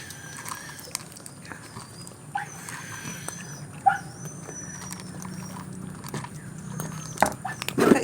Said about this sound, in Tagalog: nagtatahulan yung mga aso sa labasan